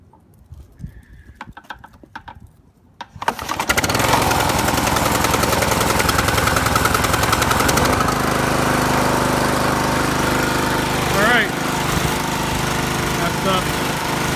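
A John Deere JX75 walk-behind lawn mower that has sat since fall is pull-started on choke after a few tugs, then roars into a loud, steady, close running drone that holds with slight wavers.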